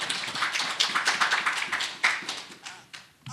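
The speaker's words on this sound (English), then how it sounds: "let's give a round of applause and welcome Kelly Munger" An audience claps to welcome a speaker at a talk, a short burst of moderate, scattered applause that tapers off over a few seconds.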